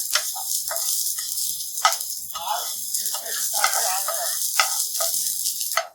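Garlic, ginger and onion fry together in a pan for street-style egg 65, giving a steady close sizzle with bursts of crackle throughout.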